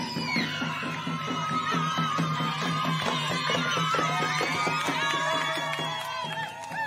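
A roadside crowd of cycling fans cheers at a morning individual time trial at the UCI World Championships in Rwanda. The whoops, shouts and tonal calls form a steady, lively din with no gaps.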